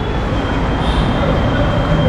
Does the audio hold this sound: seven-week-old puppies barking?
no